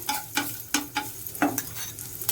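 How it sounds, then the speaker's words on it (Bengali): Chopped onion dropped into about two spoons of hot oil in a pan, giving a near sizzle broken by several sharp scraping strokes of a spatula. "গরম তেলের মধ্যে আমি আস্তে আস্তে করে পেঁয়াজটা দিয়ে দিলাম"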